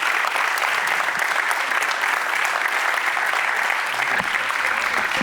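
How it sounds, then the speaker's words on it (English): A crowd applauds steadily and loudly for several seconds, dense clapping without a break. "Then a big clap to our moderators, Ivana and Misha."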